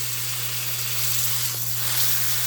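Ground beef pressed flat like a big burger sears in a hot pan, giving a steady, moderate sizzle with a constant hiss throughout and no talking.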